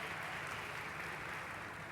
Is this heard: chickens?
no